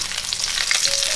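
Garlic stems go into hot oil in a pot for a Cantonese lamb casserole, producing a bright, steady, close sizzle with light spattering crackles and no voices.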